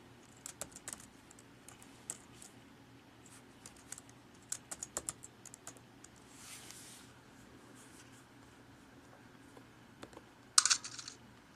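Someone types a password on an Intel-based Mac computer keyboard. Soft, quiet key clicks come in short, irregular bursts with pauses between them, ending in a sharper final keystroke.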